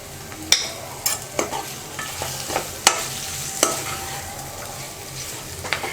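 Chicken frying in oil in a pan and being stirred with pepper powder, a steady soft sizzle broken by sharp scraping clicks of the spoon at an irregular rhythm, close up with no talking.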